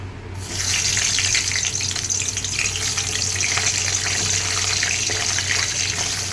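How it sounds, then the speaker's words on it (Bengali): Pointed gourds (potol) fry steadily in hot mustard oil, a loud, continuous hiss and crackle that starts abruptly and holds unbroken for several seconds, close up with no talking. "এইবার আমি পটলগুলোকে ভেজে নিচ্ছি।"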